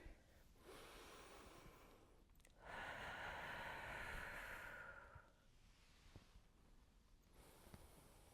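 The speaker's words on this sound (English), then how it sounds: "We're going to do some deep breathing for about 30 seconds" Slow, deep breathing during a balance and agility workout, with long audible inhales and exhales through the nose and mouth. The breaths are close and soft, and a fuller breath stands out in the middle.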